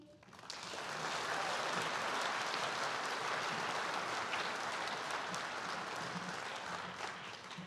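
An auditorium audience at a high school baccalaureate ceremony keeps up a long, even wash of applause, soft and distant-sounding, starting abruptly and holding steady throughout.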